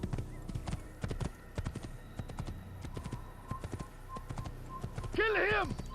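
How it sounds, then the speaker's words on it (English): A horse ridden through a city in the Assassin's Creed video game clip-clops steadily at a calm pace, with a brief neigh near the end and game voices murmuring faintly underneath. "all I did was like calmly ride by you on my horse"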